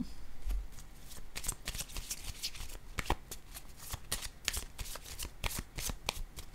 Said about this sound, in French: Là, je vais piger une carte rose.